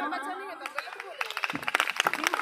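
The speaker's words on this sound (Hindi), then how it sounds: "जोरदार ताली रुस्मा कुमार के लिए" A school classroom audience claps for a student during a quiz game, a crisp patter of many hands rising toward the end, mixed with chatter and a voice talking over the start.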